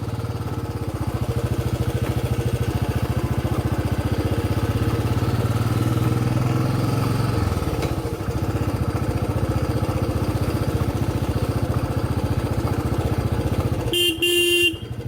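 A Bullet motorcycle rumbles steadily along a jungle road through Garh Jungle, its engine a close, continuous drone that shifts pitch midway, with a bright horn blast near the end.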